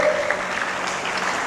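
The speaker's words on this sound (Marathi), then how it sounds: "म्हणून जोरात टाळ्या वाजल्या पाहिजे, मरेल वाणी नाही" Students in an audience at a guidance camp applaud, a steady, even wash of clapping throughout the short moment with no speech over it.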